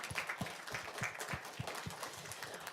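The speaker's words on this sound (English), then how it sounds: "Let's pause for some applause." Audience applause in a synagogue, a steady, even patter of many hands clapping, faint and somewhat distant throughout.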